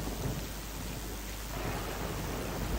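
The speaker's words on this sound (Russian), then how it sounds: "валит дождь, не по теме." Steady rain pours with a low rumble of thunder in the S.T.A.L.K.E.R. Clear Sky video game, a dense, even hiss with heavy low-end rolling throughout.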